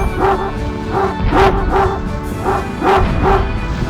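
Cartoonish dogs in a mobile video game bark and yip in a quick repeating pattern, loud and close, with several sharp barks in a row.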